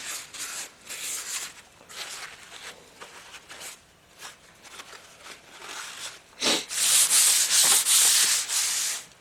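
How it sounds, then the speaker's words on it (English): A cloth wiping down a Willys F-head engine part during cleaning, giving repeated close rubbing and scrubbing strokes that grow louder and more vigorous toward the end, with no talking. "And keep wiping it until your cloth comes up clean."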